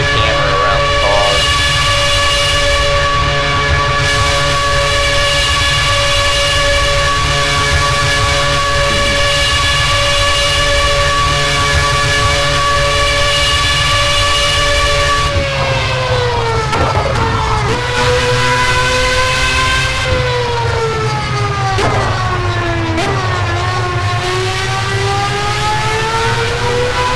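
An IndyCar engine in the Project CARS racing game drones loudly and steadily, its pitch holding and then shifting as the engine note changes partway through, with no talk.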